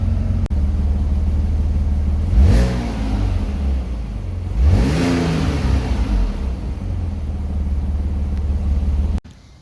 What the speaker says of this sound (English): the car is idling. Give it a few revs